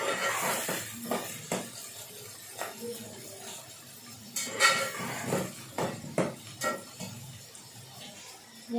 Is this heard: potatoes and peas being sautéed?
yes